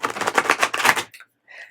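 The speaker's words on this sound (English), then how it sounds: "If I can shuffle these cards." Playing cards being shuffled by hand in a quick riffle, a dense run of crisp rapid clicks for about a second, then a short pause and a softer brief flutter, close by and with no talk.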